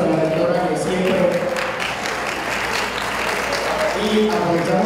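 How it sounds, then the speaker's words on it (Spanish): Audience applause for the rector at a panel discussion on pedagogy in Soledad, Atlántico, a steady broad patter of clapping lasting throughout, mixed with murmuring voices and some background talk. "un fuerte aplauso para la rectora"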